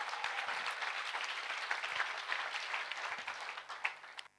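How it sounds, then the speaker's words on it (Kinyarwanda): A church congregation breaks into sustained applause, a dense, even patter of many hands clapping at moderate distance for several seconds. "Amashyi menshi ku mwami."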